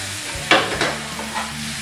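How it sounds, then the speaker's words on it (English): Swordfish and vegetables crackle and sizzle in a hot pan, with a couple of brief scraping stirs over a steady frying hiss. "that's a good indication of when you want to add your stock, is when everything really starts frying"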